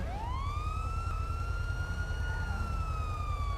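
A police car siren in the video game GTA V sounds a long, steady rising wail, loud and continuous over a dense engine and road rumble.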